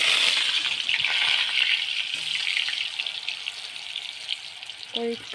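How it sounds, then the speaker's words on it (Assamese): Green plantain (kachkol) crackling and sizzling in hot oil in a home kitchen, a busy hiss that is loudest at first and eases off, with a brief voice near the end. "এইয়া ফ্ৰাই কৰি আছোঁ"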